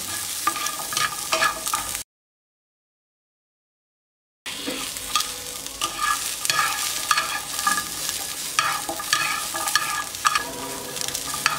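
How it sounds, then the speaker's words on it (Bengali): Sliced onion and garlic fry in a pan, giving a close crackling sizzle with scraping stir strokes, interrupted by a short silent gap before the frying resumes. "এবার একটু ভেজে নিচ্ছি পেঁয়াজ আর রসুনটা"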